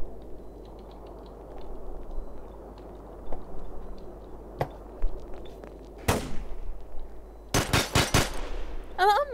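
Sharp bursts of gunfire in the video game The Hidden crack over a low background hum, scattered single shots early, then a rapid cluster of loud shots near the end.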